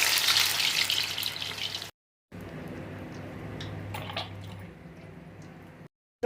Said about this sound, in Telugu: ఇంకో వడ వేస్తున్నాను.